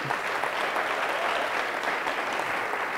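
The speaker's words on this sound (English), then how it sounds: "And one more round of applause for our Legend Student Advisory Group." Steady, dense applause from an audience at a school board candidate forum in a high school, many hands clapping continuously at an even level with no talking over it.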